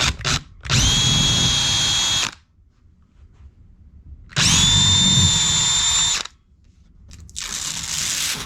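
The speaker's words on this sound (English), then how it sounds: "I used a smaller pilot bit first for those holes for the anchors, then we'll go up bigger." A power drill with a small pilot bit bores holes for drywall anchors in two whining bursts of about two seconds each, close and loud, separated by near silence, with a short start at the beginning and the end.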